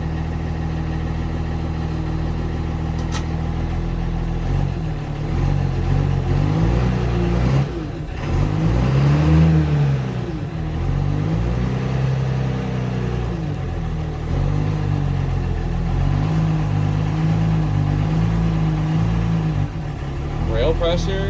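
Diesel engine running after repair, a steady close idle rising into several revs that swell and fall away, with a person talking over it throughout.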